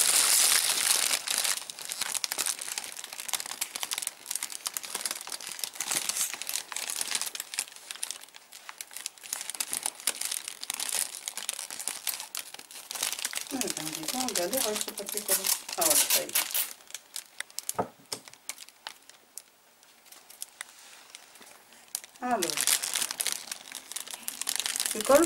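Wrapping paper crinkles and adhesive tape is pulled and torn while a Christmas gift of exotic fruit is wrapped, giving steady close rustling with a few sharp tape rips and brief voices.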